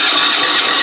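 An old tractor engine cranking over without its compression release, a loud continuous mechanical churn that stays near and steady through the short moment without catching.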